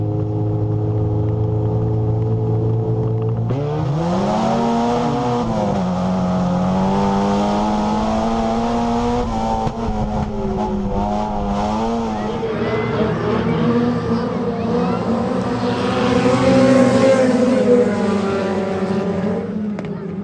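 Pro 4 race cars at Federated Auto Parts Raceway roar past in a heat race, engines loud and rising in pitch as the pack accelerates through the clip, with a brief steadier stretch before climbing again.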